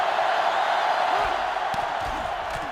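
A stadium crowd in the NCAA Football 2005 video game keeps up a steady, broad roar, with a few faint whoops and thumps rising above the constant wash.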